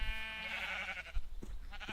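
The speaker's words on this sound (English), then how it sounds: "Back in here I have my livestock pen where I have all my sheep of every color." A sheep in the Minecraft video game gives one clear, drawn-out bleat, followed by faint shuffling and a few soft thuds.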